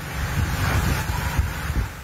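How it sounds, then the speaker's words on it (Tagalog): Heavy surf crashing on a shore, a continuous roar of waves with gusty wind buffeting the microphone, loud and with no voices. "Kinaumagahan, kita ang lakas ng hampas ng alon sa dalampasigan."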